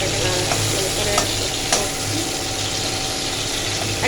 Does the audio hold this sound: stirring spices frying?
yes